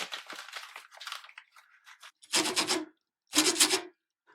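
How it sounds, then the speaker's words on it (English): A small piece of paper is handled to make a sound: a few seconds of light rubbing and crinkling, then two loud, close bursts of rough paper scraping or tearing separated by silence. "Make a really cool sound, just paper."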